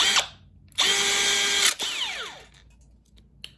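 A Milwaukee M18 cable cutter motor whirs in short bursts, starting with a brief burst, then running for about a second before shutting off, with a falling whine as it winds down, then quiet except for a faint click.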